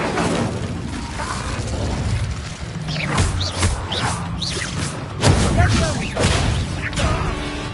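An Incendio fire spell goes off in the video game Hogwarts Legacy, bursting with thuds and whooshes within a dense, loud mix of game effects and music.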